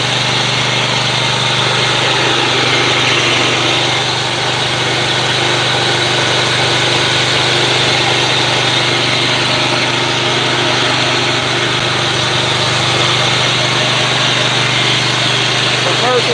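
A commercial-grade 24.5 horsepower engine idles close by with a constant, even hum and steady vibration, loud and unbroken throughout.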